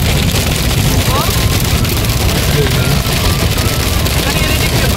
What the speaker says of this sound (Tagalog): Ang lakas ng ulan! Parang parang malapit na sa hail.